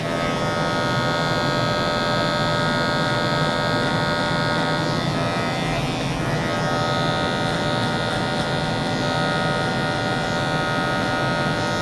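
A Wahl Magic Clip electric hair clipper buzzes steadily and loudly through a high drop fade haircut, its motor hum constant from start to finish with no talking.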